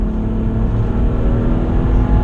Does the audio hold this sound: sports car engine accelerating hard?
yes